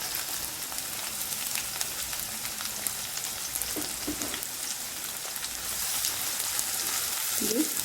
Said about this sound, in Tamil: வெங்காயம் வந்து நல்லா வதங்கிடுச்சு பொன்னிறமாக